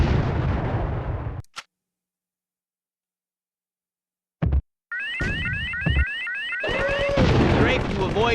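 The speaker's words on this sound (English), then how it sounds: "Shoot him with a grenade." Grenade launches and explosions in the video game C: The Contra Adventure come as loud bursts of booming fire, then silence, a sharp blast, and dense repeated shots with electronic tones, partly under a voice.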